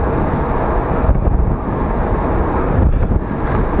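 Constant heavy wind buffeting roars across a microphone clipped to a rider on the move, a loud, dense low rumble with small surges and no other clear sounds.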